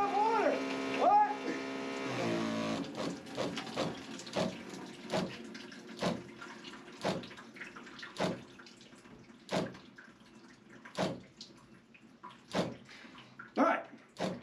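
Water rushes through a pipe into a drum in a cabin, spluttering in a steady series of sharp bursts and knocks after a voice speaks at the start.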